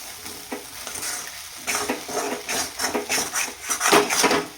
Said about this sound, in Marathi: आणि एकदा आपल्याला छान मिक्स करून घ्यायचा आहे